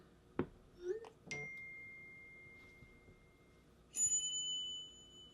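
The iMessage shooting star effect chime on an iPhone X: a bright, sparkling chime rings out with a sustained high tone, preceded by a few short clicks and taps in a quiet room.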